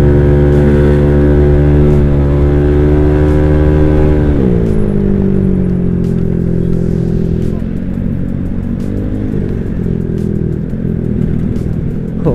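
A bored-up Honda Vario scooter engine drones loudly with a steady harmonic whine, then shifts down in pitch and keeps pulling hard, rough and continuous throughout.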